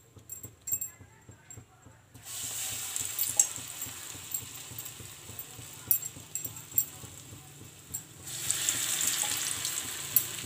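Bara (vada) batter frying in hot oil, a steady sizzle that swells after the first couple of seconds and carries on under someone talking.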